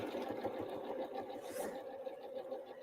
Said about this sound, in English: And I'm back stitching at the beginning.